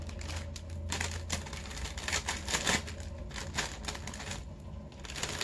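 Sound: scissors cutting and tearing plastic

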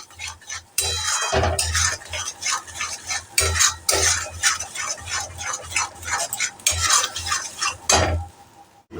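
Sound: stirring food in a pan on high flame

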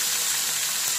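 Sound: vegetables frying in oil, sizzling

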